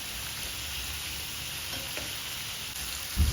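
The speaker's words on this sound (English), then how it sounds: "We are gonna fry the potatoes until they turn brown." Potatoes fry in a hot pan with a steady, close sizzle that holds throughout, ending in a soft thump as the pan or utensil moves.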